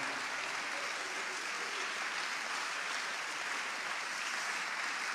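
A church congregation claps together in a continuous, even wash of applause during a worship service, moderately loud and unbroken, with no clear speech over it.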